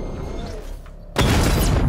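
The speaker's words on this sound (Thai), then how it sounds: "เหมือนเสียงระเบิดเลย" A sudden heavy explosion in the video game Batman: Arkham Knight bursts in after a second of quieter rumbling, its booming roar filling the rest of the moment.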